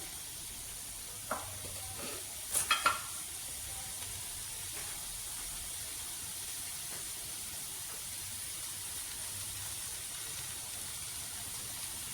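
Whole spices such as cinnamon, fennel and cardamom sautéing in a pan for a snake gourd curry, a faint steady hiss with a few brief clinks of a utensil early on, then quiet sizzling.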